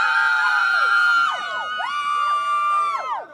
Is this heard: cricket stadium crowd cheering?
yes